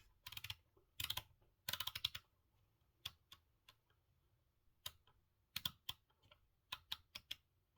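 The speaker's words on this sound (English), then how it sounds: "they make a clearly audible clicking noise when turned" Rotary knobs on a Conspit H.AO sim racing wheel hub, made of purple anodized aluminum, click as they are turned: quick, close bursts of sharp ticks with brief pauses between them, in a quiet room.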